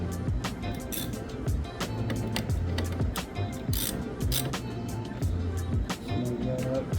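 A hand ratchet tightens a ring connector bolt during a rear-view mirror camera install on a Jeep Wrangler JKU, giving quick repeated clicking strokes close up with brief pauses between bursts.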